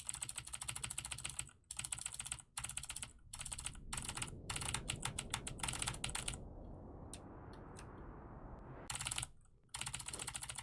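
Rapid clicky typing on a keyboard with Cherry MX Blue switches, in dense bursts broken by brief pauses, close and crisp, with a humming background swell partway through and no talk.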